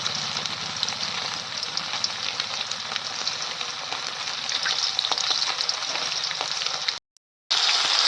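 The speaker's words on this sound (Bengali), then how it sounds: "দেখো মাছগুলো কিন্তু আমার ভাজা হয়ে গেছে।" Pieces of fish frying in hot oil for an onion flower fish curry, giving a loud, steady, dense sizzle that runs nearly unbroken before a brief cut of silence near the end.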